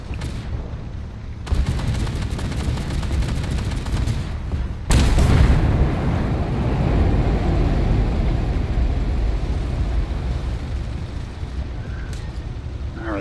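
Tank cannon fire in the armored combat game Armored Warfare: a few heavy, booming shots at about 1.5 and 5 seconds over a continuous low engine rumble, loud and close, with no voices.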